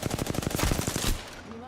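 Rapid automatic gunfire in a video game, a loud, evenly spaced burst of about fifteen close shots that stops abruptly and leaves a fading ringing tail.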